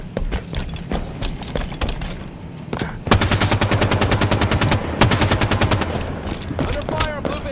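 Rapid automatic gunfire from a Halo 5 firefight, with dense bursts of loud, close shots rattling continuously after a quieter opening stretch with scattered single shots.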